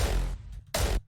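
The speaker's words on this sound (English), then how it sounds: "So basically, so the hardstyle kick without the low cut," A hardstyle kick drum sample left without a low cut plays twice: a long booming hit with heavy low-end distortion, then a short gap and a second punchy hit that cuts off abruptly.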